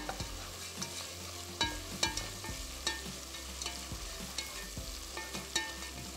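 Onion frying in a pan with ginger, garlic and whole spices, a steady close sizzle broken by regular scraping stirs of a spoon about every second, with no talk.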